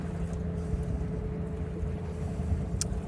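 Sailboat motoring under engine power toward a harbor, giving a steady low engine drone with wind rumble on the microphone, continuous and fairly close.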